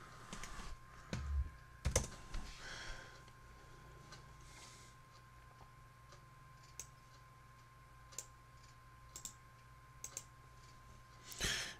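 Keys clicking on a computer keyboard while commands are entered to install software on a Raspberry Pi 3, sparse bursts of taps scattered over a quiet room hum, fairly faint and close.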